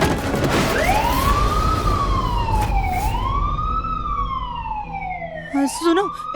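A wailing emergency siren rises and falls in long sweeps, loud and close, with a busy rumble of traffic and noise underneath.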